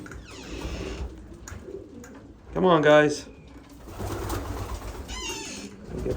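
Young racing pigeons coo in a loft section, a soft rolling murmur throughout with one louder burst of cooing in the middle, heard close by while someone speaks briefly.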